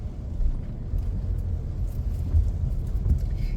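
A car drives along Kalakaua Avenue in Waikiki during a Kona low storm warning, giving a steady, close low road rumble with continuous engine and tire noise.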